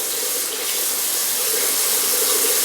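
Water gushes steadily from a tap close by, a loud, even hissing stream that doesn't let up.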